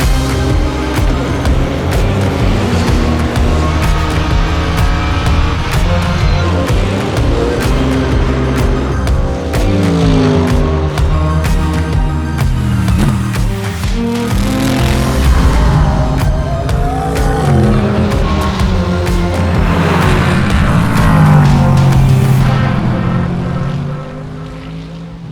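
Race cars at speed on a circuit, engines roaring loud and close and pitch sweeping up and down as they pass and shift, a continuous dense din that eases off at the very end, with no voices.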